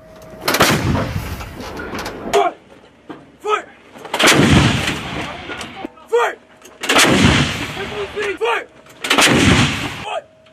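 An M777 howitzer firing live rounds at a battery range: several huge, sharp booms at intervals, each rolling into a long rumbling echo, with shouted crew commands faintly between shots.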